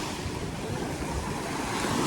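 Sea waves wash and roar continuously around a boat just launched into the sea at Dwarka, a dense, even rush of surf with wind buffeting the microphone and no voices.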